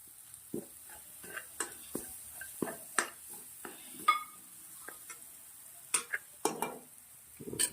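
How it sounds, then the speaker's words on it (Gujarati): Masala spices roasting in a pan with homemade kasuri methi being added, quiet intermittent stirring scrapes and soft clinks of a spoon against the pan over a faint steady sizzle. "બે મિનિટ સુધી મસાલાને શેકી લેશું મસાલો સારો શેકાય છે"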